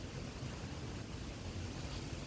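Wind rushes steadily and buffets the microphone with a low, continuous roar among sugar apple trees; no voices or other distinct sounds.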